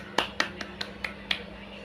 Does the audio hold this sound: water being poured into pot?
no